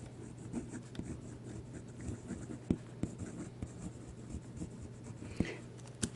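A Monteverde Giant Sequoia fountain pen, held with the nib upside down, writes on paper, making a soft close scratching and gliding sound with small taps as strokes begin and end.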